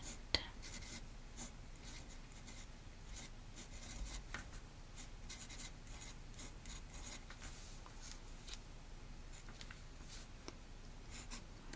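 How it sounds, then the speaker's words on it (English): A pen scratches across a paper test strip in a quiet perfume boutique, soft continuous scribbling strokes close to the mic, faint and intimate with no talking. "And I'm just going to write down the name, Blanche B."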